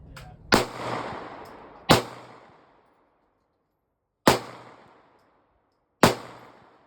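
Four sharp, loud gunshots from a Glock pistol at an outdoor shooting range, spaced irregularly with short echoing decays and quiet gaps between them.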